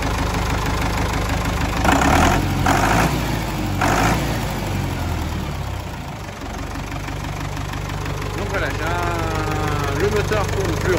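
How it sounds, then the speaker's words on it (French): A Renault diesel engine idling steadily after its injectors were adjusted, loud and close, with a continuous rumble and knock throughout and faint other sounds over it. "Le moteur tourne plus rond,"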